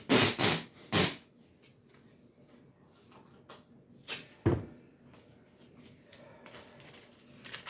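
Masking tape is ripped off the roll in a few sharp, loud tearing bursts at the start, with a couple more quieter rips and faint rustles of handling later in a quiet room.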